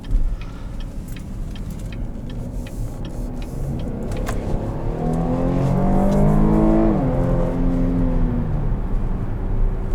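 A 2020 Cadillac XT6 Premium Luxury's 3.6 liter V6 revs steadily higher under manual paddle shifting, its engine note climbing and growing louder before a shift drops the pitch, heard from inside the cabin with faint ticking in the background.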